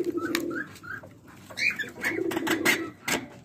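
Doves at their nest coo softly and repeatedly in a calm outdoor setting. Low hooting calls rise and fall in short phrases, near and clear, with faint chirps and rustles between them and no talk.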